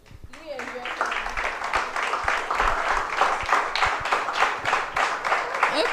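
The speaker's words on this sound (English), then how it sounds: "Okay, I hear the applause." A conference audience in a Nairobi hall claps for a speaker. Individual claps are sharp and close, building quickly into sustained, uneven applause with voices murmuring underneath.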